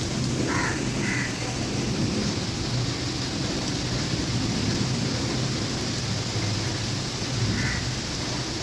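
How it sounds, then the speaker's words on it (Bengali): Heavy morning rain pours steadily as a dense, continuous wash of noise close by, with a few faint bird calls breaking through in the background. "দেখো প্রচণ্ড বৃষ্টি"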